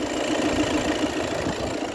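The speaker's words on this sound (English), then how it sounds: "So there we have it, the 2-litre twin turbo engine," A 2019 VW Tiguan 2.0 bi-turbo diesel engine idles under an open bonnet, a steady close rumbling drone with a slight knocking texture, heard alone.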